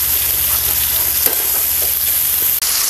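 Masala-coated fish frying in oil in a pan, a loud, steady, close sizzle with occasional stirring clicks and one brief dip near the end.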